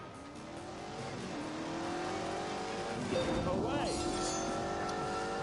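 A car engine revs hard at full throttle with rising, sweeping pitch and some tire squeal, loud and close, while a person talks over it.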